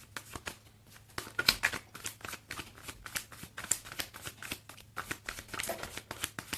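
Cards are shuffled by hand in quick, irregular bursts of soft slaps and riffles, quiet and close, continuing for several seconds.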